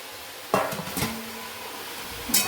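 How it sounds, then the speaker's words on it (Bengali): Cauliflower going into a curry pan to be stir-fried, a clattering clank of the pan followed by a soft sizzle and a few scraping stirs, ending with another short metallic knock. "ফুলকপিটা দিয়ে দেবো ফুলকপিটাও ভালো করে কষে নেব"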